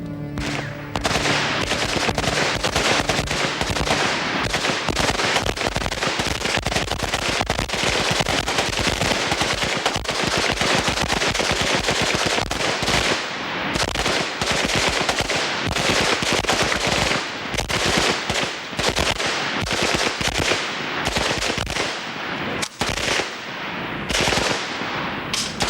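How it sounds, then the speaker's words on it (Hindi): Sustained automatic rifle fire at a target on a military range, dense rattling bursts running continuously and loudly, close, with overlapping shots and echoes. "सामने टारगेट, अपने टाइम में बर्स्ट, फायर"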